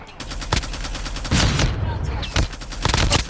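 The DR-H rifle in Call of Duty Mobile fires in sharp, loud bursts of rapid automatic shots. The volleys are separated by brief gaps, with faint game sounds in between.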